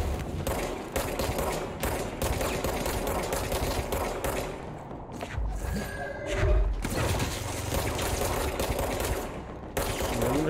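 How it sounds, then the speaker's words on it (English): Machine gun fire in the video game Control rattles in long rapid bursts, loud and close, broken by brief pauses. One short gap carries a few scattered impact and shatter-like noises before the fire resumes. "Oh my god, it's a machine gun."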